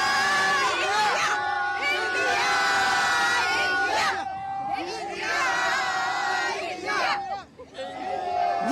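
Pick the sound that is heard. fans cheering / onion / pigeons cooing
fans cheering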